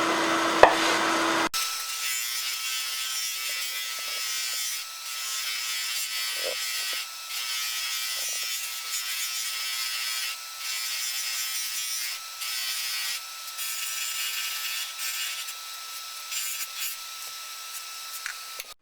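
Steady high-pitched whirring hiss of a woodturning being buffed against a spinning wheel loaded with white diamond compound, constant and close after a brief louder start, with small fluctuations as the piece moves.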